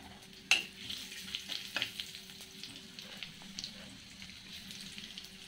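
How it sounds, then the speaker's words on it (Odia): Panch phoron spices with dried red chillies frying in hot oil in a pan, a steady close sizzle with a couple of sharp crackles as the seeds hit the oil. "ଫୁଟଣ ପକେଇଦେବା ପଞ୍ଚ ଫୁଟଣ"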